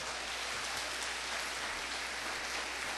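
A church congregation applauding together during an evening service, a steady dense wash of clapping that carries evenly throughout without voices on top.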